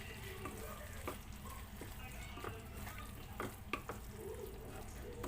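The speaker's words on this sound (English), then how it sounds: "So now let's mix well." Okra masala is stirred in a sizzling pan, with a steady frying hiss and repeated scraping strokes of the spoon, close and fairly loud, with no talking.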